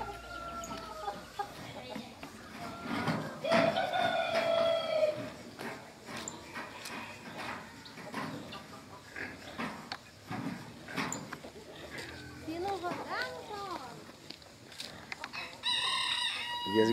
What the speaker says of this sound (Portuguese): E as galinhas não param de ciscar, né?